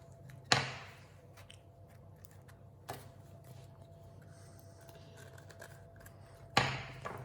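Scissors snip choux pastry mushrooms in three sharp, isolated cuts spaced a few seconds apart against a quiet room background.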